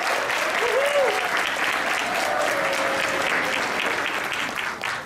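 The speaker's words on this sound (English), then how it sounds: "So let's applaud and say thank you." Steady applause from a large audience fills the whole stretch, dense and even, with no voices rising above it.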